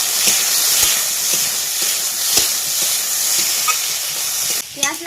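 Onions and chillies frying in a pan at home, a loud, dense, continuous sizzle and hiss close up, with faint stirring knocks and a brief change near the end.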